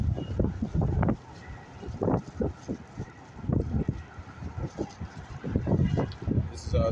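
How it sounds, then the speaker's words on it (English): Gusty wind buffets the microphone outdoors in downtown Chicago, rumbling in uneven bursts with brief lulls, close and fairly loud, while someone speaks over it. "Windy out here today."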